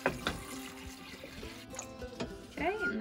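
Water runs from a tap over potatoes in a pot in a home kitchen, a moderate splashing rush heard close, with a voice speaking briefly near the end.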